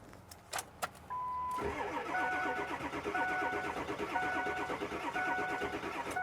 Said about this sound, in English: I'm gonna crank it. Let me know if it spins.